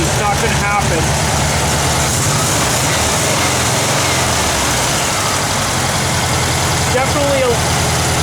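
Volkswagen Kubelwagen engine idling steadily after a tune-up with a new coil and clean spark plugs, a continuous low mechanical drone that holds even throughout, with no talk over it.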